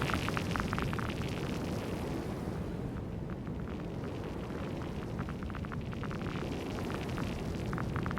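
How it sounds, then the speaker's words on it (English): Synthesized hailstorm with vinyl-style distortion, a dense continuous crackle of sharp clicks and pops over a low rumbling wash, steady and loud throughout with no voices. "We created hail."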